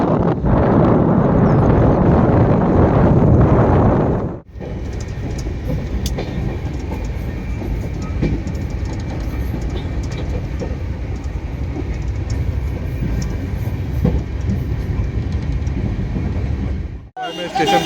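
At a railway station a train rumbles past, a loud, continuous roar with a clattering rush and wind buffeting the microphone, cutting off abruptly near the end.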